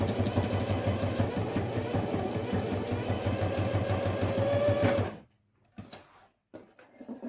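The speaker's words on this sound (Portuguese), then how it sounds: "eu vou fazer a costura de reforço aqui" A domestic sewing machine stitches a reinforcing seam on a homemade school pencil case, running in a steady fast mechanical whir for about five seconds, then stopping, followed by a few faint handling noises.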